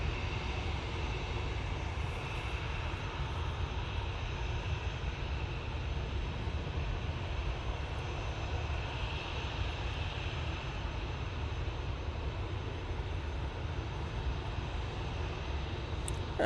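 Airliner from Naples taking off, a steady broadband engine roar with deep low rumble holding evenly throughout, heard at a distance with no voices over it.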